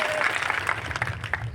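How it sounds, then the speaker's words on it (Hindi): A large crowd at an outdoor political rally in Madhya Pradesh claps in a sustained, rough burst of applause, heard from a distance over a low murmur. "जोरदार ताली बजाओ।"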